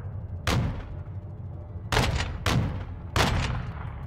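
Gunfire in Call of Duty Modern Warfare 2: three heavy, booming bursts spaced about a second apart, each with a long rumbling tail over steady background noise.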